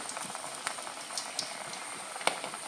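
Onion fritters dropped into hot oil, a steady bubbling fry hiss with scattered crackles and pops close by, no voices.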